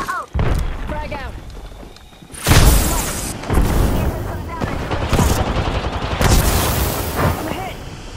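A frag grenade blows up in a squad-based shooter video game, with several heavy booms bursting out over gunfire and battle noise, and voices calling out during the fight.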